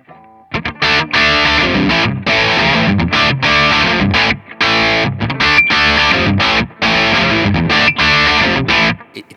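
Electric guitar played through Effectrode tube pedals into an Orange amp, with distortion turned down but still coloured, sounds as loud, chunky chords in a steady rhythm with short gaps, up close and alone.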